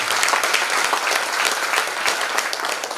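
An audience at an interview event applauding, a dense, steady wash of clapping from many hands filling the whole stretch at moderate loudness.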